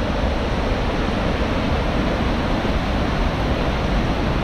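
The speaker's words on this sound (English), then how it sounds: "we're at the top of a waterfall here. It's moving pretty good." Water rushes over the top of a waterfall in a steady, loud, broadband roar that stays constant throughout with no breaks or voices.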